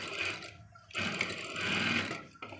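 A sewing machine stitching fabric runs in short bursts at close range, a rapid whirring rattle that stops briefly and starts again, with a faint voice in the background.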